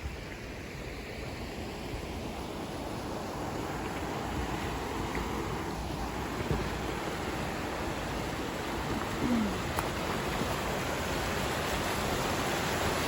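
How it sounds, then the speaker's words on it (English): Creek on a farm running high with a lot of water after rain, a steady broadband rush of flowing water that stays even and fairly close throughout, with no talking. "Right here, this is the creek."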